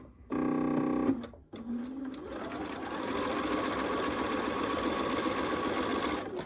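A sewing machine stitches quilt fabric pieces, chain piecing them. A close, steady mechanical whir runs for a second, stops, then restarts and continues for about four seconds.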